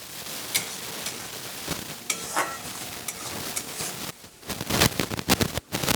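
Spice masala with Kashmiri chili being fried in oil and stirred for a rohu fish curry with potato and pumpkin: a constant sizzle broken by close spatula scrapes and clacks, busier and louder toward the end.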